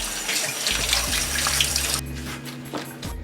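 Tap water runs steadily over two stalks of green onion being rinsed for ahi tuna poke, a close splashing rush that cuts off partway through and leaves only faint drips and kitchen noise.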